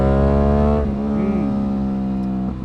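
An Aprilia RS457 sport motorcycle with an aftermarket AC Project exhaust revs loud and close, holding a strong steady drone before the pitch drops and swings through a quick rise and fall as it pulls away.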